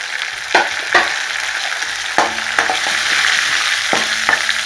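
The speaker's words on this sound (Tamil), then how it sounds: "வெங்காயம் போட்டுருவோம்" Onions frying in a pan for a spicy chutney, giving a close, steady sizzle broken by several sharp scraping stirs.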